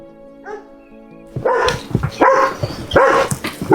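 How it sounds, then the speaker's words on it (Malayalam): Two foreign-breed dogs bark at horses in repeated, overlapping bursts, loud and close, after a quieter opening with a faint whine, in the mountain village of Ghandruk, Nepal. "ഇവിടെ 2 ഫോറിൻ ഡോഗ് ഉണ്ടല്ലോ, അത് അതിനെ നോക്കി കുരക്കാണ് കേട്ടോ."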